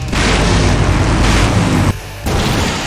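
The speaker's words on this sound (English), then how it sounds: "Now that's an explosion, ladies and gentlemen." An explosion in Full Throttle Remastered lands as a loud, sustained roaring blast that fills the whole range, cuts out briefly, then rumbles on more weakly.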